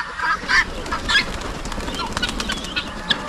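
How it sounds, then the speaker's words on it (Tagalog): Pigeons are released and take off in a burst of flapping wings, several loud fluttering bursts close by in the first seconds, then lighter scattered wingbeats and a sharp flap near the end. "Pinalabas po natin yung ating mga kalapati."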